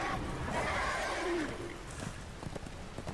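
A horse summoned in the video game Darksiders 2 lets out a loud, close whinny, followed by a few hoof clops.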